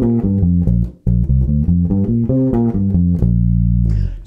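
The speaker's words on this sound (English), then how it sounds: "this is the first blues riff that I want to show you using the first shape of the major pentatonic" A bluesy riff on the major pentatonic scale is played on electric bass, quick note runs ending on a held low note, loud and clear with no talking.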